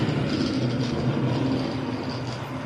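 An HO/009 model train runs along its track with a steady, even rolling hum and faint mechanical whir, constant and close, no voices.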